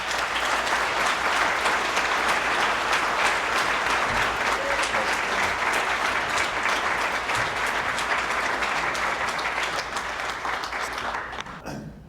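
An audience welcomes speaker Matt Birk with sustained, dense applause that fills the room evenly for about twelve seconds before tapering off at the very end.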